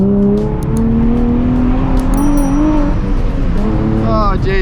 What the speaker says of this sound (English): peeling out of a roundabout is like the most fun thing to do